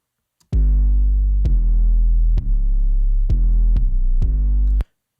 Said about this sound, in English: I was able to excite different areas and do different types of distortion at different frequencies.